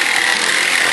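A jigsaw cuts through the metal roof of a camper van, a steady, loud, harsh buzzing rasp that holds without a break for the whole moment.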